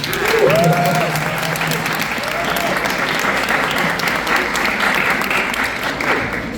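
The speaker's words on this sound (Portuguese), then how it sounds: "Então acho que isso aí, salve de palmas." An audience at a municipal council chamber lecture on the 2030 Agenda Sustainable Development Goals applauds steadily for several seconds, with a faint voice briefly heard near the start.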